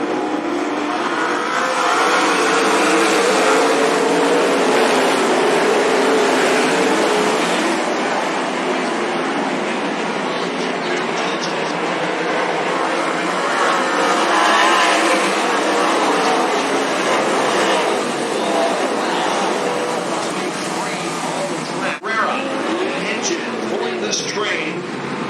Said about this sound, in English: we again are green flag racing in Cottage, Oregon